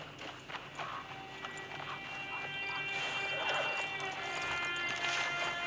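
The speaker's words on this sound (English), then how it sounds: "It's your horse." Horse hooves clip-clop at a walking pace in the Western video game Red Dead Redemption 2, with steady rhythmic footfalls over an ambient outdoor background and faint tonal game sounds.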